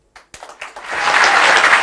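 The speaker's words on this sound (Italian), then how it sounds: "Bravi, questo applauso" Audience applause during a televised Neapolitan sceneggiata performance, starting with a few scattered claps and quickly swelling into loud, sustained clapping from a full crowd.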